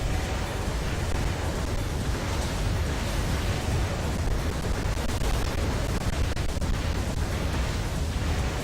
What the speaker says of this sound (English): This guy's putting out so many freaking explosions that it's lagging the game.